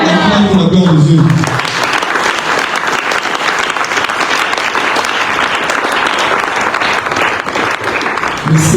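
Audience clapping fills a church youth seminar hall, steady and dense for several seconds after a loud preacher's voice at the start, with speech returning faintly near the end.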